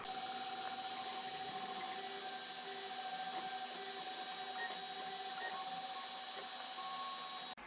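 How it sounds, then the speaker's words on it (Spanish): A 3D printer printing a plastic piggy bank, its stepper motors whining and humming at steady pitches with a constant fan-like hiss, small ticks and shifting tones from the moving head, running alone without voices. "Ahora lo que podemos hacer es guardarlo en nuestra tarjeta y mandarlo en la impresora."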